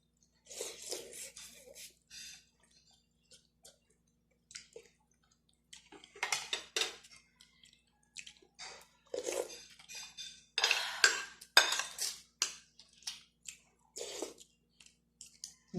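Vegetables being washed in a basin, with wet splashes, squelches and clinks of dishes and utensils coming in irregular bursts separated by near silence, close and fairly quiet.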